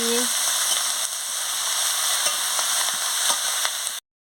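Chuna fish chorchori frying in a pan while being stirred, a loud steady sizzle with faint scraping, cutting off abruptly.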